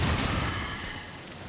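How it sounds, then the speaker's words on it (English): A spirit enemy bursts in a sharp explosive blast in Darksiders II, a loud short boom that fades into a rushing decay within a second and a half. "He exploded, that spirit exploded."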